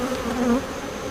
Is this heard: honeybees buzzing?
yes